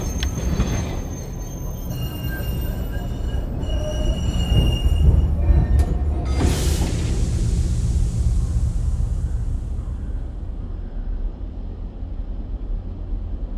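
A passenger train rolling along rails in the video game Murder in the Alps: Unforgiven, a loud rumbling run with squealing wheels and a brief hiss of brakes, fading as it slows, no voices.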